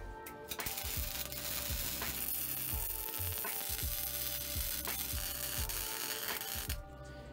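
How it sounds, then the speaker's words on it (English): A nut being welded onto a forge makes a steady, loud crackling buzz with rhythmic pulses that lasts several seconds and stops abruptly near the end. "Now to weld the nut."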